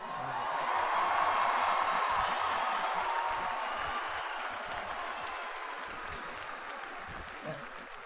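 Commencement crowd at a university College of Education ceremony breaking into sustained applause, a dense wash of clapping that starts loud and slowly tapers off over several seconds.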